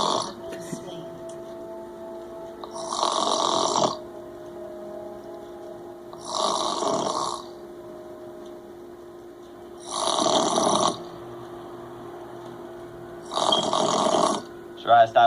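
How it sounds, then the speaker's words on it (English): A person snores loudly in four long, rasping breaths spaced a few seconds apart, each a harsh broadband drone, with quiet room hum in the gaps between them. "Try stop fucking snoring."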